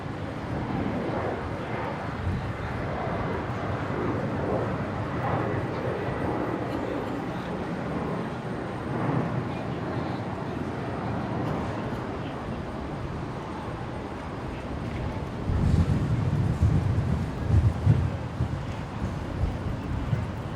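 A Fokker airliner at Brisbane airport rumbles at a distance in a steady, broad engine drone that swells louder and rougher toward the end as it passes closer.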